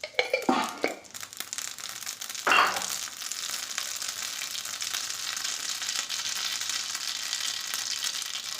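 Hot oil sizzles steadily with a loud crackling burst early on, settling into a continuous close hiss of mustard seeds frying in a pan for green leaf sambar.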